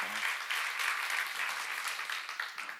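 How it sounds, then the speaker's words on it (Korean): A church congregation at a Korean seminar claps together in sustained, moderately loud applause that carries on evenly, with a brief voice at the very start. "박수."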